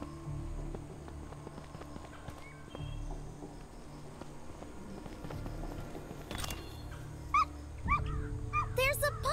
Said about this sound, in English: There's a puppy! Come here, little puppy.